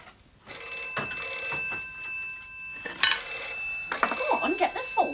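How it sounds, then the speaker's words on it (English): A telephone bell rings in a home, repeated bursts of bright ringing that come and go, with voices talking between and over the rings. "Go on, get the phone."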